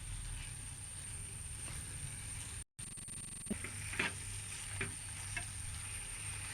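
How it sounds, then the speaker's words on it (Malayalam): Chicken with ground masala sizzles steadily in a pan for a Kerala-style chicken roast, a close, continuous frying hiss with occasional stirring clinks. "നന്നായിട്ട് വഴറ്റി കൊടുക്കാം."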